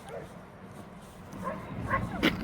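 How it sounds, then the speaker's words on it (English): A pack of three large dogs on an Appalachian Trail section in North Carolina, giving a few distant yips and barks, faint and intermittent over soft outdoor background noise. "there's a pack of 3 large dogs up there"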